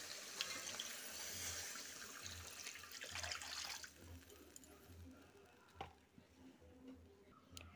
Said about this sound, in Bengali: মশলাটা আমার কষানো হয়ে গেছে, তাই এরপর জল দিয়ে দিচ্ছি।